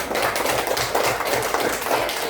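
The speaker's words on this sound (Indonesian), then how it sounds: "Tepuk tangan untuk teman kita" Students in a classroom clap for a classmate, a short burst of fairly close, irregular clapping with a slightly uneven rhythm.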